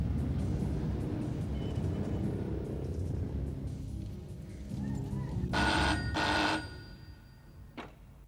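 A telephone rings twice in distinct bursts over a low rumbling background in a thriller TV drama scene, followed by a brief faint tone; no voices are heard.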